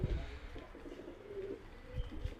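Young pigeons near a bath give soft, low cooing calls, a few faint murmuring coos heard close over a quiet background.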